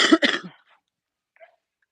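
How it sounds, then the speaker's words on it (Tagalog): Two quick, close coughs in a row, followed by silence and a faint brief sound afterward. "Inuubo pa rin tayo."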